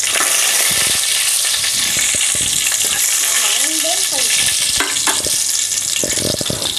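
Curry leaves and dried red chillies sizzle and crackle loudly in hot oil for a spicy Tamil chicken dish, a steady dense fry with sharp spitting pops and occasional stirring clatter throughout.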